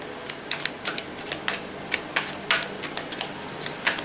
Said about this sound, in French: Alors on va prendre une carte